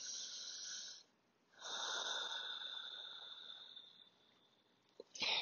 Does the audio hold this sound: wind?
no